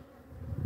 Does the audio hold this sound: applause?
no